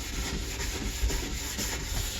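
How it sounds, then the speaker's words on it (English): Swix polishing brush worked back and forth over waxed skate skis, a steady close-up rubbing and brushing texture continuing without pause and without talk. "this I'll go back and forth like you were polishing anything else"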